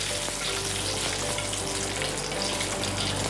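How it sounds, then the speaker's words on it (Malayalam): Mustard seeds and curry leaves splutter in hot oil for a Kerala-style tempering, a loud, dense, continuous crackle and sizzle close up with no voices. "കടുക് പൊട്ടി തുടങ്ങി."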